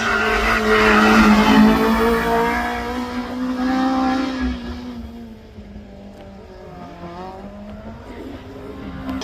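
A race car accelerates at the Craigantlet hillclimb, its engine note rising loud and close before fading into the distance, with a commentator talking over it.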